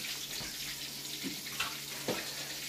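A kitchen tap runs steadily as items are washed at the sink while catfish fries nearby, making a constant close hiss with a few faint knocks.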